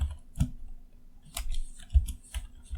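Typing on a computer keyboard during a JavaScript coding session, a few scattered close key clicks and taps at an uneven pace, quiet and without talk.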